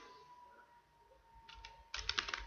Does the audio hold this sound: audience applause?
no